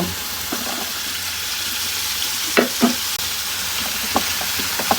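Eggs stirred into hot, sizzling masala in a pan, with a low steady frying hiss and a few clicks and scrapes of a spoon; no speech.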